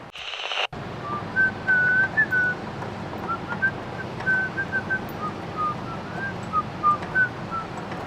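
Someone whistles a meandering Christmas tune, thin and fairly quiet, over a steady windy background hiss.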